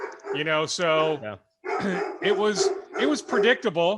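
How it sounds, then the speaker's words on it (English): A dog barks in short bursts in the background of a home, partly masked by someone talking over it. "Apologies for the dog barking."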